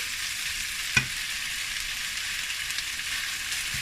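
Chicken with black mushrooms and bamboo shoots simmering in a pan, giving a steady, soft frying hiss with one sharp click near the start, and no voices.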